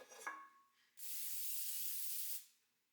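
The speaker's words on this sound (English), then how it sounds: "Just spray it so it doesn't stick." A short burst of cooking spray hisses steadily onto a baking dish for about a second and a half, then cuts off.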